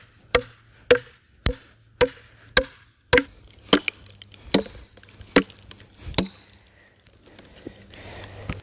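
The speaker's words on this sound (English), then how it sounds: "Once both splitting wedges are set into the log, go back and forth, hitting one then the other." Steel splitting wedges hammered alternately into a wooden log: nine sharp, evenly spaced metallic strikes, loud and close, the later blows duller as the wood gives, followed by quiet creaking and settling.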